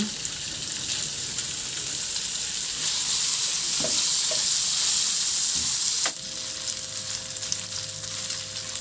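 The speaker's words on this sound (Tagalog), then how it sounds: "Maglagay na ako ng sliced ham." Sliced ham frying in a pan for cream of mushroom soup with quail eggs gives a steady close sizzle that grows louder midway, with a few light clinks and stirring noises.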